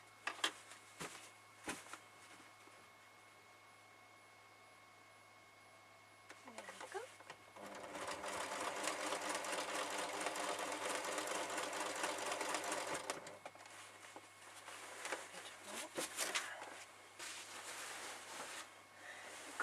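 A small domestic sewing machine free-motion quilts a large quilt, running in a sustained loud stretch after quieter handling noise and a steady low hum, with someone talking before and after the stitching.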